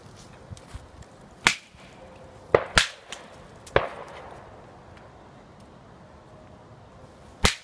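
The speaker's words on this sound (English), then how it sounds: "I'm gonna do a couple whacks with my stick here. It's pretty loud." Several sharp, loud whacks of a wooden stick striking a tree in woods, spaced irregularly with quiet outdoor ambience between hits.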